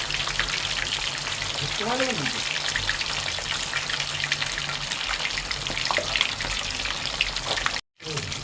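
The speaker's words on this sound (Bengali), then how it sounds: "এখন মাছ দিয়ে দিচ্ছি তেলের ভিতরে।" Fish sizzling in hot oil in a wok for a fish hotpot, a steady close crackle and spatter running the whole time under a faint voice, with a brief dropout near the end.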